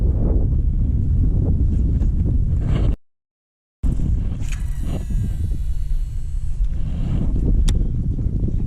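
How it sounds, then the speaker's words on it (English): Steady wind roars across open marsh water from a fishing boat, a loud broadband rush with buffeting on the microphone, cut by a brief dropout, then continuing with faint whistling tones over it. "that wind's picking up now"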